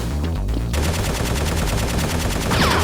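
Toy Nerf guns fire in a rapid burst of sharp, close pops during a staged backyard battle, the clicks coming in a quick repeating rhythm.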